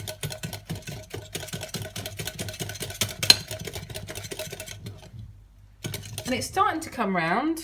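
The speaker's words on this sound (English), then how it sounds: "So we're just going to whisk this for about a minute." Yorkshire pudding batter being whisked by hand in a bowl, a steady rapid clicking and scraping rhythm for about five seconds, then a pause before someone speaks.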